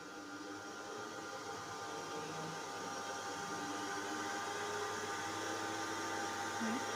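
A DC shunt motor runs on a constant 100-volt supply with a low, steady hum and faint whine, unchanging and fairly quiet, with a brief voice in the background.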